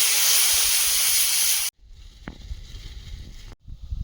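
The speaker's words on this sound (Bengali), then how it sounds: "মশলা কষিয়ে নিয়েছি জল দিয়ে দেবো" Water hits fried spices in a pan for a fish curry, sending up a loud, close sizzling hiss that stops abruptly, followed by quieter pan sounds.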